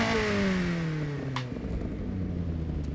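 Volkswagen Golf Rallye with street exhaust in Forza Horizon 6 revs loud and close, its engine pitch falling steadily as the revs drop off into a lower rumble, with brief clicks over the tone.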